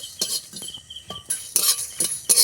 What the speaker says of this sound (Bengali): মশলাগুলো এবারে ভেজে নেব